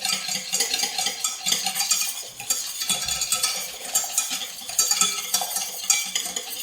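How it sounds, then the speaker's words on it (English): A whisk scrapes and swirls steadily through thickening custard in a pan, close-up metallic stirring with rhythmic scraping strokes against the bottom, no voices. "Got to keep that whisk moving, keep the custard from burning along the bottom of the pan."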